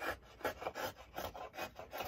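A curved spoon gouge carves the wooden top of an archtop guitar in steady, rhythmic strokes, each one a close, raspy scrape of steel peeling wood, repeating about every quarter second.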